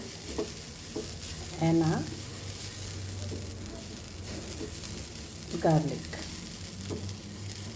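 Coconut, sesame seeds and garlic roasting in a pan, a steady low sizzle with scraping stir strokes and a couple of louder clatters, while a person talks briefly.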